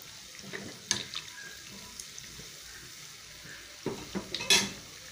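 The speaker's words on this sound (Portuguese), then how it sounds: "já estou terminando de fritar os bolinhos" Bolinhos de chuva dough fritters deep frying in oil give a quiet bubbling sizzle, broken by a few sharp utensil clinks and a louder splashy crackle near the end, with no talking.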